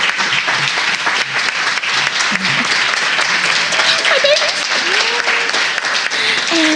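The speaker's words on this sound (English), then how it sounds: "give them one more round of applause because they're so talented." An audience at a community arts event applauds a group of talented kids on stage, sustained loud clapping with a few cheers and a voice talking over it.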